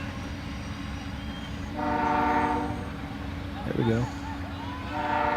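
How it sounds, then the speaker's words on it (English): A train passes near a high school boys soccer game, rumbling steadily while its horn sounds in several loud blasts. Someone talks over the noise. "It's only the second train to come by in this game."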